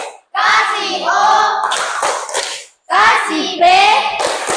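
Schoolchildren in an Indonesian madrasah classroom in South Bengkulu clap a short rhythmic cheer in loud bursts, mixed with their chanting voices and brief pauses between phrases.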